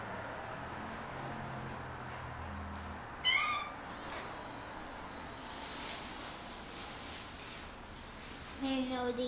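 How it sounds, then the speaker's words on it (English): A cat in a condo in Kelowna gives a couple of short, close meows, one in the middle and one near the end, over a quiet room background. "I didn't know the cat was"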